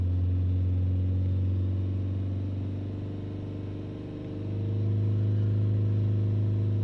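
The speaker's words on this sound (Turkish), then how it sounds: "Gaz veriyorum." A Fiat Linea engine runs close up with a steady low drone that dips slightly as the throttle is worked, then settles back to a loud, even hum, with no voices.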